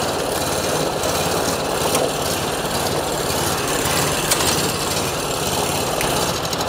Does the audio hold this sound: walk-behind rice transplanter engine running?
yes